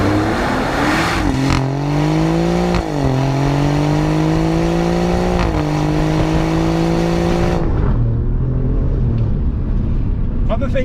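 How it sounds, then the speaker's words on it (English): A 2020 Alfa Romeo Giulia Quadrifoglio accelerating hard, its engine note climbing steadily through long pulls with brief dips at gear changes, loud and close, then dropping away near the end. "Acceleration on this car is still as blitzeringly quick as you remember from the old car"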